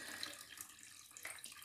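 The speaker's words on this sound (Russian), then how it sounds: "Вот так я его хорошо проливаю." Water splashes steadily into the pot of a potted orchid during watering; the pot has a layer of expanded clay or stones at the bottom. The wash of water is soft and continuous and heard alone.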